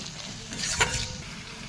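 Spice masala with salt, turmeric and chili powder fries in a pan for a fish curry, a soft steady sizzle with one brief scrape of a stirring utensil, close and without talk.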